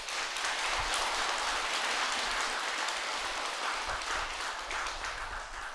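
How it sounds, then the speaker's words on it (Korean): An audience claps together in a sustained burst of applause. The dense, even clatter stays loud and steady from start to finish with no talking over it. "박수 한번 보내야 돼."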